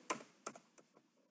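Keys tapped on a computer keyboard while coding in Scratch, heard as three or four sparse, crisp clicks close by in a quiet room, fading out after the last press.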